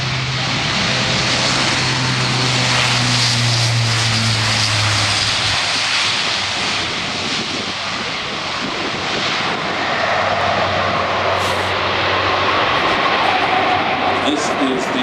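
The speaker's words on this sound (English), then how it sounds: "A400 now starting the takeoff run." An Airbus A400M Atlas military transport aircraft starts its takeoff run: a loud, broad propeller and engine roar with a low hum that drops away partway through, the roar building steadily and staying constant.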